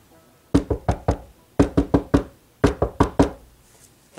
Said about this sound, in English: But he will knock 4 times?